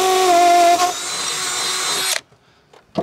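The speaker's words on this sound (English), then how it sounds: "I'm gonna drill a hole in the top middle of the sauna" An electric drill whines loudly for about two seconds, its pitch shifting as it bores through a sauna wall, then stops abruptly, leaving quiet.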